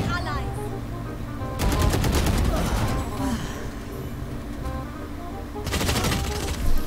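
Rapid automatic gunfire from the Valorant video game comes in two dense sustained bursts, loud and close, with softer game sounds in between and a voice talking over it.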